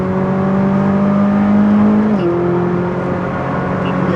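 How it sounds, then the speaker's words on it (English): Ferrari naturally aspirated V8 accelerating, a loud steady rising engine note heard from inside the car, dropping briefly at a gear change before climbing again. "It sounds really good too. Sounds like a race car."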